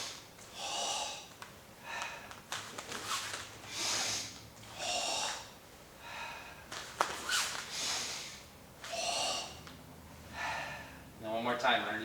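Forceful, rhythmic breaths while performing the Sanchin kata, a series of loud, hissing exhalations and sharp inhalations repeating about every second or two, close and strained.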